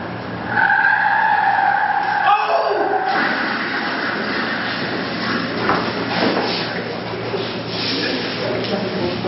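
A car skids in an accident, a loud, sustained tire screech and scraping that runs for several seconds, with speech over and around it.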